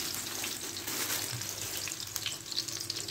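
Burger patties of ground meat fry in a hot pan with a steady, bright sizzle and crackle, close and continuous with small spits and pops, no talk over it.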